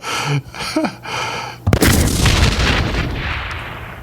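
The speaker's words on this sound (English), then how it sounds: "That was the gunshot." A gunshot sound effect fires once as a sudden, heavy boom that rolls off into a long, fading rumble, following brief sounds before it.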